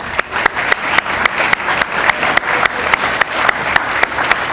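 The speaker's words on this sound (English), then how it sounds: "Please give them a round of applause." Audience applause, a steady round of clapping from a moderate crowd, with sharp individual claps popping out regularly above the wash.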